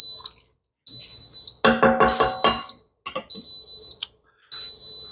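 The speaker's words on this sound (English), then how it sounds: "That beep means my saute ended" An Instant Pot gives several sharp, high electronic beeps in a row as its saute ends, each short tone separated by brief gaps, with some clattering kitchen noise in between.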